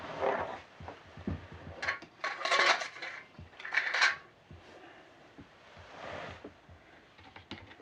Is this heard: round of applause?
no